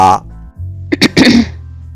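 Close by, a woman clears her throat in a couple of short rough rasps that end in a low voiced grunt.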